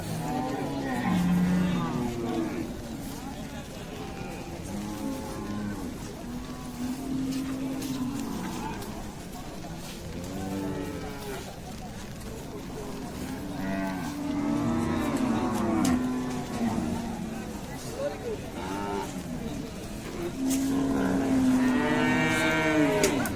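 Indian and local cattle and bulls low repeatedly at a rainy-day Paragram haat, a village livestock market, with several deep moos near and far over a steady background of crowd murmur and people talking.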